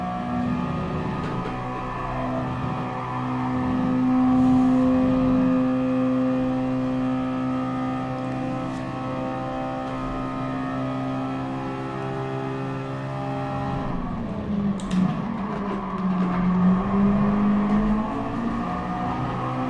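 Mazda Roadster touring cars racing at Laguna Seca in a video game, with a steady droning engine note that rises and falls as the cars run bumper to bumper, and a shift in pitch near the end.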